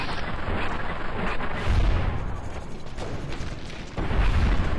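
Heavy gunfire in Fallout New Vegas: booming, rumbling shots with low thuds near the two- and four-second marks, loud and close over a continuous battle din, with no talking.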